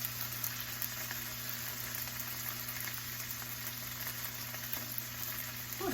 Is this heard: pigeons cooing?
no